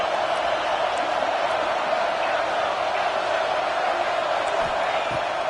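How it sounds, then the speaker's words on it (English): Football stadium crowd, a dense, continuous roar of distant cheering and shouting that stays at an even level throughout, with no clear single voice on top. "this crowd trying to help keep them there"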